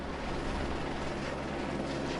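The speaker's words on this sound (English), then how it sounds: "The sounds of patrolling helicopters are never far away anymore" Border patrol helicopters give a steady, distant rotor and engine drone that stays even and continuous throughout, with no voices.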